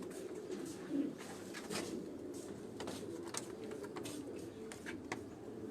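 Caged pigeons coo softly and repeatedly in a rooftop loft in Sialkot, a low murmuring chorus with light rustling around it and no clear talk.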